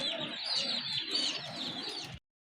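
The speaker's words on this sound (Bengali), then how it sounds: "আরেক জোড়া কবুতর এটা কিন্তু একেবারে পিওর দেশি কবুতর" Soft, repeated cooing of local native-breed domestic pigeons close by, low throaty pulses mixed with some higher chirps, ending abruptly.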